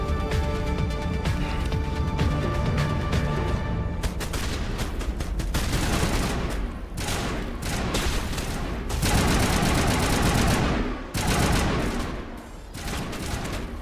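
Sniper rifle fire in Mass Effect Legendary Edition, a loud continuous stretch of rapid, overlapping shots and blasts with dense combat noise, steady throughout with music-like tonal layers early on.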